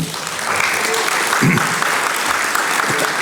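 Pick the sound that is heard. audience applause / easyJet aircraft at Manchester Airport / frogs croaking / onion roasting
audience applause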